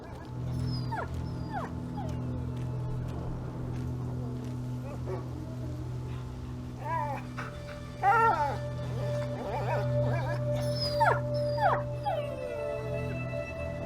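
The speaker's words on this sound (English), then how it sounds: "I hear a whining dog." A dog whines in the video game A Plague Tale: Innocence, with repeated high, wavering whimpers and yips that rise and fall over a steady low ambient drone throughout.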